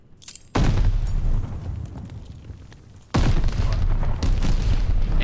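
Two heavy, booming grenade blasts in Call of Duty, each a sudden loud explosion with a rumbling tail that fades before the second hits, during a collegiate esports match.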